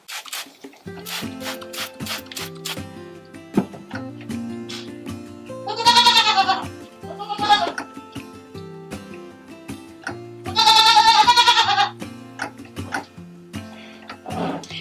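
A long-haired goat bleats twice during hand milking, with one loud, quavering call midway and another a few seconds later. Soft rubbing and ticking noises continue in between.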